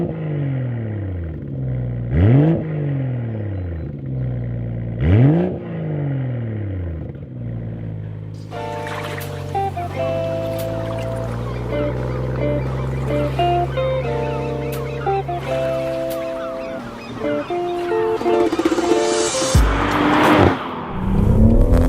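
A BMW M140i Shadow Edition revs hard in repeated sweeping bursts, engine note rising and falling twice, then settles into a sustained drift with a droning engine and tire squeal, ending in a louder flurry of revs and screech.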